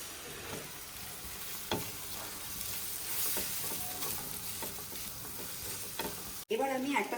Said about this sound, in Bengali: এবার আমি একটা সাইডে চিকেনটা ভেজে নিচ্ছি হালকা করে একটু।